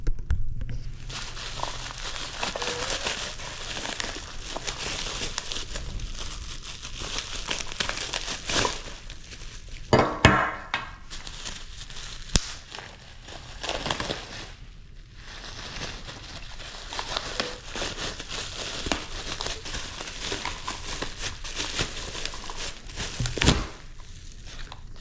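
Bubble wrap packaging crinkles and crackles as fuel pump voltage boosters for a supercharged Shelby GT350 are unwrapped, with steady close rustling and a few sharper crunches and tears throughout.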